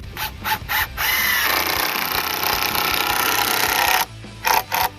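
A power drill drives exterior screws into picnic table wood: a few short bursts, then a sustained loud grinding whir for about three seconds, followed by more quick stuttering pulses, close and alone.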